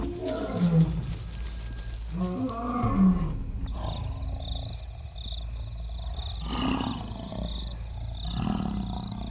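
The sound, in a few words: lion roaring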